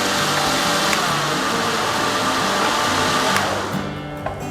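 A blender grinds batagor ingredients until smooth, a loud, steady motor whir close by that winds down at the end.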